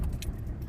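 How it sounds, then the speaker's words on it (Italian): Car keys jingle briefly inside a car as it is about to be started, a quick close metallic rattle over a low hum. "Aspettate che intanto accendo la macchina"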